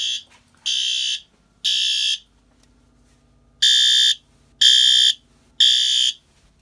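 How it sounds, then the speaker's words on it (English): A fire alarm horn set off from a manual pull station, its horn partly taped over, blares in six loud, even bursts of about half a second each with short silent gaps, the fourth starting after a longer pause. "I think I'm going to start with this pull station because I've never demonstrated it before."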